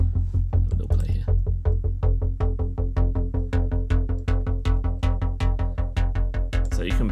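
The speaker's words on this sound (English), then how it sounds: "you just simply want the crunch that you get from digital synth sounds" Gritty digital synth sounds from the Massive Darkscore V instrument with a crunchy edge, a fast repeating pulse of bright, buzzy hits over a sustained low drone, loud and continuous.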